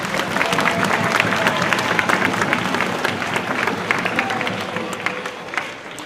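At a school spring concert, the audience gives a big, sustained round of applause honoring a helper, dense continuous clapping from a full room that holds steady and tapers slightly at the close.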